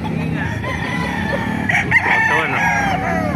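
A white Kelso gamefowl rooster, about ten months old, crows nearby at a busy poultry market, with clucks and other fowl around and faint voices underneath.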